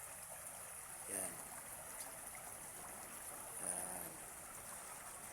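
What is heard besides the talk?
river water flowing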